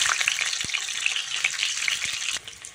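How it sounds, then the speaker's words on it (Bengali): Eggs fry in oil in a pan with a steady, bright sizzle sprinkled with small pops and crackles, easing slightly near the end; no voices. "প্যানে আরেকটু তেল দিয়ে ডিমগুলি আমরা ভেজে নেব।"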